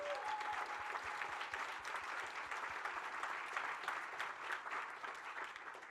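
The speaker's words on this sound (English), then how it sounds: "let's give them a huge round of applause" An audience at a closing keynote applauds steadily, a dense wash of many hands clapping that holds throughout without fading.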